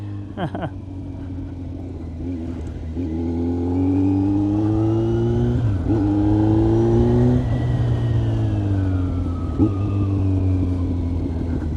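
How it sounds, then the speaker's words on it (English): Kawasaki Z900 with a Leo Vince GP Corsa black slip-on exhaust, heard up close while riding: a loud engine note rising and falling through several rev changes, with throttle blips and downshift jolts, over steady wind rumble. "Downshifting from 2 to 1 is always rough."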